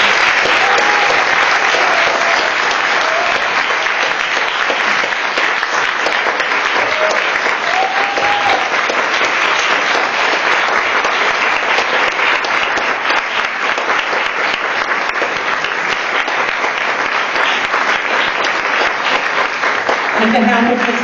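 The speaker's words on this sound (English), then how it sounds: "why don't we give another round of applause to the poetry readers" Sustained applause from an audience honouring poetry readers at a senior services program event, a dense, steady wash of clapping that fills the whole stretch without letup, with some voices mixed in.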